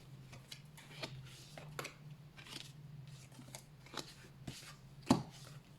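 Tarot cards shuffled and laid out by hand, a run of soft irregular riffles and slaps with one sharper snap near the end, close and quiet over faint background hum.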